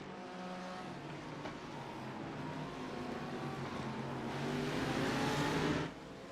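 GT3 race cars in a Le Mans endurance round of a racing video game drone past steadily, engine tones sustained and building slightly louder before dropping off near the end.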